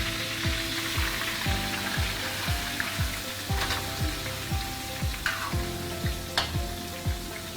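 Spinach fries in a hot pan alongside paneer, giving a dense, continuous close sizzle with a regular rhythmic stirring or scraping pulse underneath and a few sharper crackles.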